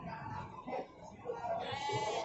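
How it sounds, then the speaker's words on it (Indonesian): A PE (Peranakan Etawa) goat bleats at an animal market in Sukorejo, Kendal, with a couple of wavering cries over background chatter and crowd noise. "Ini adalah kambingnya PE Pak Sumar."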